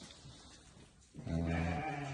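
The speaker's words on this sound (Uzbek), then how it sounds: "Mana qo'ylarni yaqindan ko'raman desanglar" A pregnant sheep's bleat rises after about a second of quiet ambient noise, loud and close, with a wavering voiced tone.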